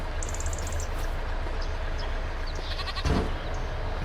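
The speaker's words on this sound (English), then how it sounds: "Let's check on the goats. I guess check on all the livestock, do the husbandry tasks." Goats bleating in the Farming Simulator 25 video game, a series of short repeated calls early on over a steady low farm ambience, with a brief louder burst near the end.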